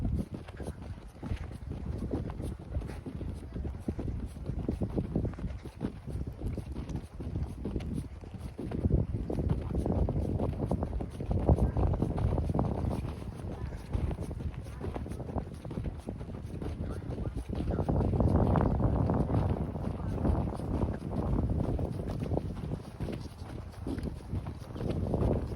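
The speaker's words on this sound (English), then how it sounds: "Little breezy right now, but this type of wind doesn't really bother me" Wind blowing on a breezy nature hike, a steady low rumble of gusts buffeting the microphone, swelling and easing over about twenty-five seconds with no talking.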